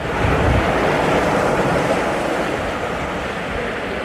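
Steady, loud wash of waves on a bay heard from a ferry, a continuous broadband rush with wind noise across the microphone and no voices.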